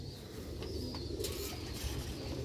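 Domestic pigeons of a Sialkoti breed give a soft, low coo close by, a brief murmuring call over faint background noise with a couple of thin higher sounds.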